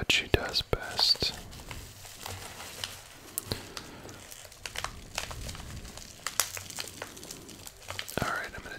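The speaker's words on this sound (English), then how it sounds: "I'm gonna dig into this package" Crinkly paper and plastic packaging of a care package rustling and tearing in bursts close by as it is opened, with soft crackles and quiet handling noises between them.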